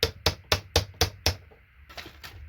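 Six sharp, evenly spaced hammer blows ring out close up on scrap SMD resistors from e-waste, followed by a couple of softer taps.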